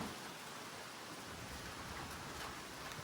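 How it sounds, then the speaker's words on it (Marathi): Heavy unseasonal rain pours down in a dense, steady hiss with no other sounds breaking through. "एवढा जोरात पाऊस आहे."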